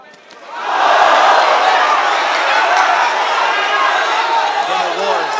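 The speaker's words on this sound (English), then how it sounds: "Then a roar from the crowd." Loud crowd roar at a boxing match between Melvin Jerusalem and Luis Castillo, swelling up within the first second and holding as a dense, sustained wall of voices to the end.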